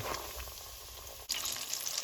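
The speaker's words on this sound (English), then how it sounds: "Now that our oil is up to temperature, we're going to begin frying our chicken." Chicken thighs sizzle in hot oil, a continuous crackling hiss that jumps louder and brighter partway through, close and unbroken.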